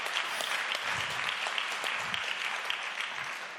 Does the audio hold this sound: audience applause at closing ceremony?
yes